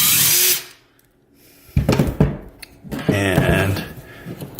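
A power drill runs in one loud burst, backing the screws out of a GFCI outlet, then falls silent before someone talks close by.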